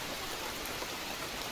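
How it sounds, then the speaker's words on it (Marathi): Heavy rain falling steadily on an outdoor spot where dried fish has been laid out, a dense, even, hissing wash of drops with no voices. "पण पाऊस एवढा पडायला लागला"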